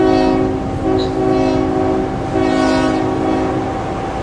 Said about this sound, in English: I blew the horn of a train.